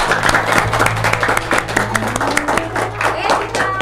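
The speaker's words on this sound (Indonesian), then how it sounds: "Tepuk tangan dulu dong." An audience at a talk show on millennial literacy and a book launch claps in a steady, dense round of applause, close and moderately loud, with a low hum running underneath.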